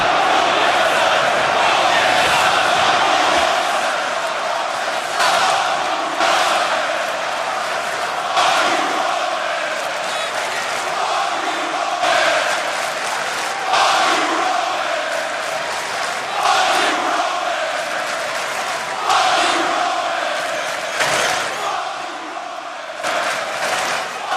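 Dense arena crowd at a wrestling event roars and cheers continuously, a loud sustained wash of voices with swelling bursts, chants and shouts rising throughout.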